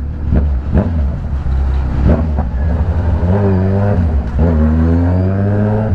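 Engine noise in heavy traffic on the NLEX expressway in the Philippines, a close vehicle motor rumbling and revving in uneven bursts, a steadier drone in the second half, no talking.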